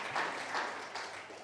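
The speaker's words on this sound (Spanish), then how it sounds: "Vamos a darle un aplauso a Armandito." Applause from a church congregation during a service, a brief burst of many hands clapping together in a steady wash that carries through the whole moment without talk.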